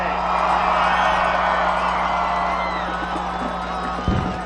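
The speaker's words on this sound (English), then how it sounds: "Let's give both these teams a round of applause for an outstanding game today." A large crowd roars and cheers continuously after a high school state championship football game, a dense wash of voices from a stadium, with a brief thump near the end.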